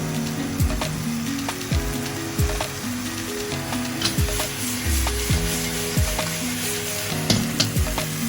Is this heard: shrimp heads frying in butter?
yes